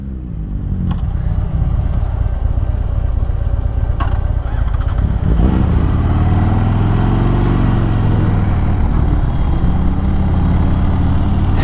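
A sport motorcycle engine drones loud and steady while riding, with a rumbling tone that shifts midway as the ride goes on, close and continuous with no talk.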